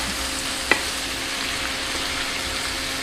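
Brussels sprouts frying with chorizo and sun-dried tomatoes in a pan give a steady, close sizzle, with one short scrape of the spoon as everything is stirred together.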